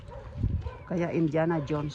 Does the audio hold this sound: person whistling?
no